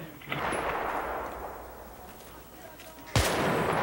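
Gunfire in Battlefield 3 plays as a broad noisy burst and wash of battle sound, ending with a sharp loud crack near the end.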